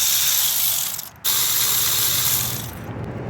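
A ratchet loosens a 14 mm brake caliper bolt on a 2018 Lexus NX 300, two bursts of close, fast clicking separated by a brief pause.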